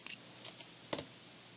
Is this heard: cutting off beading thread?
yes